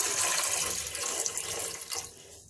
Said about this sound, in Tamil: இது முழுகிற அளவு தண்ணி ஊற்றினா போதும்.